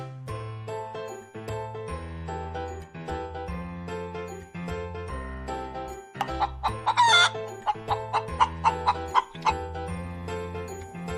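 Chickens cluck and a rooster crows close by, a busy mix of short repeated calls with sharper bursts in the second half, alongside light jingling tones and no talking.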